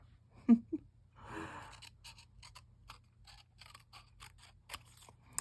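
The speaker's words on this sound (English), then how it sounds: "Draw a line and cut it with your scissors" Paper being cut with scissors, a short snip near the start followed by a longer sliding cut and a run of small crisp clicks and rustles, close and fairly quiet with no talk.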